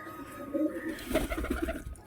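Pigeons coo softly and close by in a short burst of soft throaty calls, a few overlapping murmurs in a home loft where the birds are being let out.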